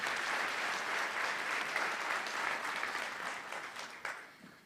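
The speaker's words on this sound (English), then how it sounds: "Let's give them all a round of applause." A large audience at a university graduation ceremony in Windhoek applauds, a broad, sustained roar of clapping that gradually thins toward the end.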